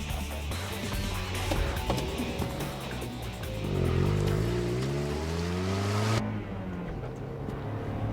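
A Mazda NA Roadster with a 1.6-litre engine drives a mountain pass, its engine droning loud and near, then rising in pitch under acceleration before the revs suddenly drop away.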